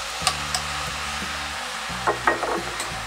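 Cooked sausage stirred in a pan, a steady sizzle with a few spoon clicks and scrapes, close and moderately loud.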